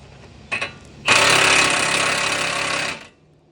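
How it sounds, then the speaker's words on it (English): A power tool tightens a nut on the passenger side of a car, giving a short initial burst followed by a loud, steady two-second whir that stops abruptly, with no talk. "how it's strong as we tighten this nut up."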